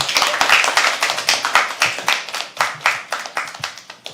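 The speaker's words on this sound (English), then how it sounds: "Can we please have a round of applause for him?" Audience clapping at a live poetry open mic at The Habitat, a dense run of close, sharp hand claps from a small crowd, steady and lively before slowly thinning out.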